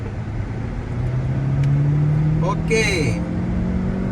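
A Renault Duster corners at speed on the Buddh International Circuit, with a sustained engine drone and a rising tire hum. Someone speaks briefly over it.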